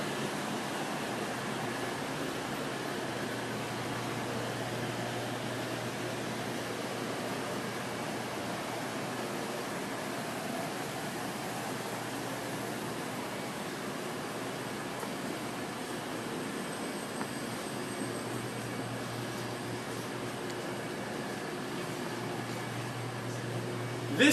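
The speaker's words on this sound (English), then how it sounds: "This is the machine that puts the bottles in the packages, in the 6-packs, 12-packs, 24-packs." A bottle-packaging machine at a brewery bottling plant runs with a continuous, dense industrial roar and whir, steady and unbroken throughout, with no clear individual clinks and no talking.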